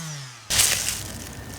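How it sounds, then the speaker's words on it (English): After a brief lower hum, an abrasive sanding rasp starts abruptly as filler-covered foam in a catamaran dagger-board slot is sanded, a close, steady scratchy hiss. "that's that area being sanded now"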